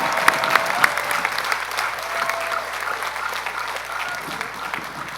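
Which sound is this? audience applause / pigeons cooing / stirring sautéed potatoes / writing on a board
audience applause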